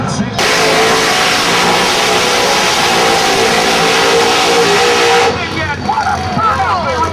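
A drag racing car at a drag strip roars through a burnout, its engine held at a loud, steady, high-revving scream for about five seconds before cutting off, leaving crowd noise and faint voices behind.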